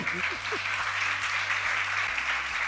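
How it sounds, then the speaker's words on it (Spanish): An audience claps in sustained, dense applause at a book presentation, loud and steady throughout, with a brief voice sound at the very start. "Un aplauso, por favor."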